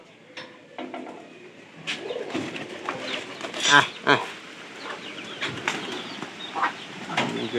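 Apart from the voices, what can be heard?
pigeons cooing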